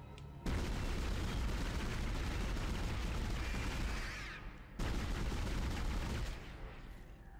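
Rifle gunfire from the Dead Space video game bursts loudly and nearly continuously for several seconds, pauses briefly, then resumes before trailing off into quieter ambience.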